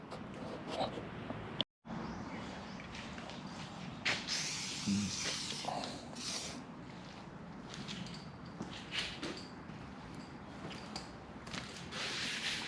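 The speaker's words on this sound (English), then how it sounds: "Use a little WD-40 to see the line." WD-40 is sprayed onto the cut line of a steel 48-inch rock auger in short hissing bursts, quiet and close amid faint workshop noise, with a brief dropout partway through.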